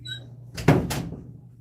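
A door opens to let a cat in, a short, close wooden clunk and rattle in a quiet room with a low background hum.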